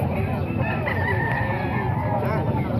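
A two-year-old rooster crows loudly and close by at a poultry sale in Calumpit, one long drawn-out call over busy background chatter and other fowl noise.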